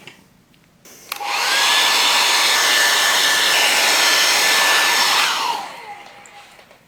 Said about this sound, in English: just to make sure it is dry, I use the hairdryer